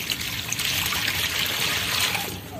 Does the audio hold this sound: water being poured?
yes